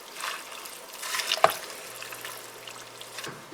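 A spoon stirs spicy cabbage soup with red pepper flakes in a pot: soft liquid swishing and trickling close by, with one sharper knock of the utensil midway.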